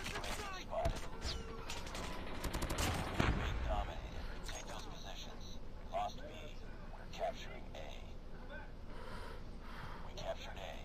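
Call of Duty Mobile gunfire during a clan wars domination match, with a dense, loud burst of rapid shots early on, then scattered quieter shots while a person talks throughout.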